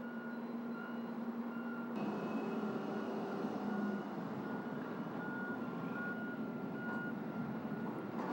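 Intermodal trucks working a Burlington Northern rail container yard, with a steady tonal reversing beep sounding over a continuous rumble of engines and yard machinery, moderately distant.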